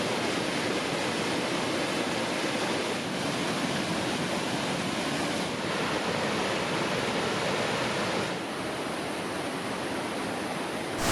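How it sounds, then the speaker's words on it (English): Falls River in Abel Tasman National Park, New Zealand, a wide river at moderate flow, gives a steady, dense rushing roar that stays constant throughout, with no voices over it. "This is Falls River, wide river. Not too heavy flow right now."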